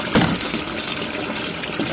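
Inside an RV laundry room, a washing machine fills with hot water, giving a steady rushing gush of pouring liquid with a faint bump near the start, close and continuous.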